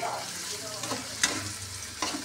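Snake gourd (chichinga) frying in a pan makes a continuous low sizzle, broken by a few brief scrapes and crackles from stirring.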